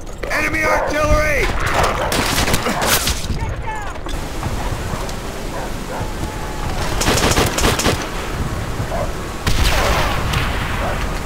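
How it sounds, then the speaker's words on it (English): Enemy artillery and heavy gunfire in the multiplayer mode of Call of Duty: World at War, with loud continuous booms and crackling bursts in dense battle noise and voices shouting over it. "Enemy artillery!"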